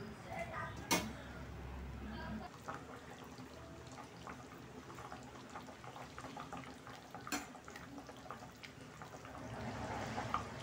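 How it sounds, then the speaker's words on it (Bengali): Dhoka curry broth simmers in a pot with a faint, low bubbling hiss broken by scattered small pops and clicks, plus a brief clunk near the start. "এটা দিয়ে জলটা দিয়ে একটু ফুটতে দেবো।"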